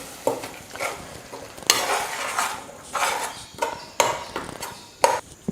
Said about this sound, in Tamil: இப்போ தக்காளியும் நல்லா வதங்கி சுருண்டு வரணும்.